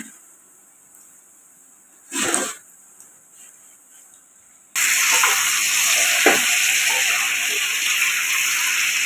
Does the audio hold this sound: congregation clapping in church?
no